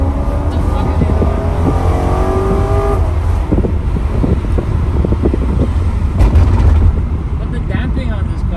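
A BMW E90 M3 with a custom exhaust drives along, its engine droning and rising in pitch under an ongoing conversation among the occupants inside the car.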